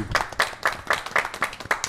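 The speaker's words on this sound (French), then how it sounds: "On peut les applaudir." A radio show's studio audience claps for the hosts in a short burst of distinct, rhythmic handclaps, fairly close and loud, lasting under two seconds.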